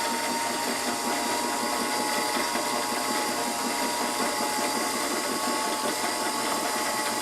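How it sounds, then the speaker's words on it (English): A vintage electric wooden fishing line dryer runs with a steady, continuous mechanical whir and buzz, even and unbroken throughout, close and fairly loud with no talking. "And that's how the old line dryers work. But this is a cool electric one."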